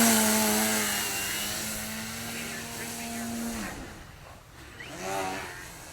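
Engine of an Addiction X RC model airplane in flight, a buzzing whine that drones steadily and then fades and shifts as the plane moves, with a person talking over it.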